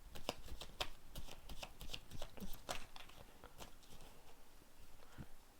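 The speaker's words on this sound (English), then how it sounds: "Let's see if we're gonna pull 2 tarot cards for Pisces and their lover." Tarot cards being shuffled and pulled for a reading, giving a quiet run of soft riffling flicks and snaps, close and fairly faint, with no voice over them.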